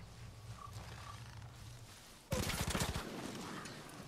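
Timber, a wolf companion in Far Cry New Dawn, attacks an enemy, a sudden loud snarling and growling mauling that starts abruptly partway in, amid gunfire and combat noise.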